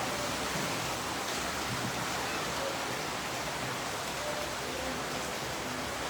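A constant wash of heavy rain roars evenly throughout, thick and close, with a faint murmur of a voice buried low beneath the downpour.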